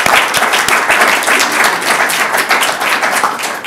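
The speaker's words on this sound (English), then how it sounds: "I think we should just have a round of applause." An audience applauds steadily at a Royal Medal event, dense overlapping claps at a constant loud level with no talking.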